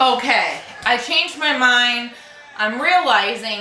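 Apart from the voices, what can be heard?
None of the usual background noises is heard.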